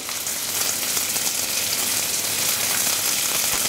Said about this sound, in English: Now while those first few pieces are frying,